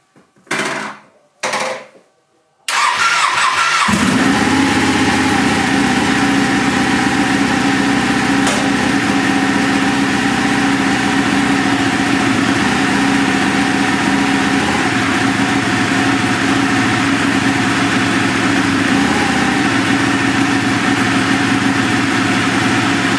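A Ducati Panigale motorcycle engine coughs through two short cranking bursts, then catches and settles into a loud, steady idle that holds close and unbroken to the end.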